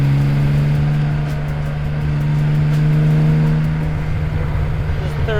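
A 1970 Jaguar XKE E-Type roadster engine drones steadily at close range while driving, with a strong low hum and a slight shift in pitch partway through.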